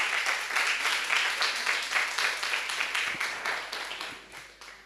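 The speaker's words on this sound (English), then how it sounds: "I think she's deserving of another round of applause." An audience at a symposium gives a round of applause, with steady, dense clapping that gradually tapers off.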